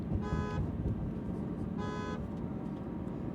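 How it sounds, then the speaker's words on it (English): Car horn of a Porsche 911 GT3, two short honks with a bright harmonic tone, each about a third of a second, sounding over a steady low road and engine rumble from inside the car. "If someone is driving recklessly and you need to honk at them,"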